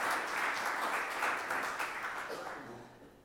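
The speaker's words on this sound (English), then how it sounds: "Ladies and gentlemen, please give an applause to Dr." Audience applause for a keynote speaker at a virtual and augmented reality conference, a dense wash of clapping that holds steady and then fades away.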